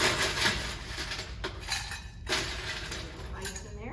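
Ice clinks into a cocktail glass during drink preparation, a few sharp glassy chinks and rattles close by, with a voice talking over them.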